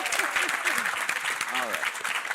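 An audience at a funding and inclusive-impact panel event gives a round of applause, a dense continuous patter of clapping with voices talking over it.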